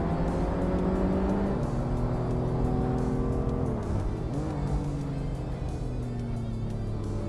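In a racing video game at Enna Pergusa, a 2012 Mazda RE 8-speed and rival cars leap off the starting line, with loud, steady engine whine climbing and shifting pitch through gear changes, several cars blending in a continuous close roar.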